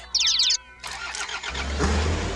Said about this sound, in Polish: Zapal silnik.